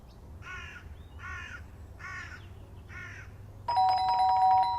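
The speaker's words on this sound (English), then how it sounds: "But the doorbell had gone again." A doorbell rings with a sharp electronic ding near the end of a Fragments of Him game scene, after four evenly spaced crow caws, with no voices.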